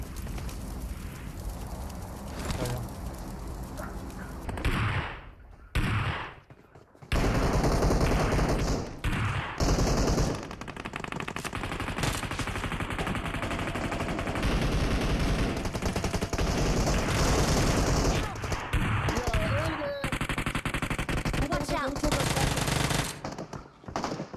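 Automatic gunfire in a shooter video game, with loud, rapid bursts that run almost continuously and break off briefly a few times.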